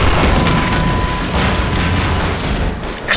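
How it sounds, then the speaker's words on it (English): A deep, rumbling Half-Life 2 video game explosion booms loudly and rolls on for a few seconds, with crackling debris on top. "Explosions!"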